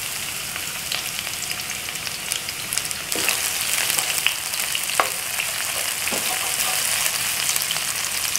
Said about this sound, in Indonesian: Ini tuangkan minyak sedikit ya. Kita tumis bawang merahnya.